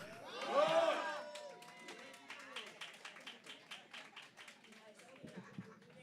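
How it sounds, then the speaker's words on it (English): A crowd at a memorial celebration of life raises a loud voiced cheer, then breaks into steady rhythmic clapping that carries on through the rest of the moment, with some talk underneath. "And let's just give one cheer for Rock."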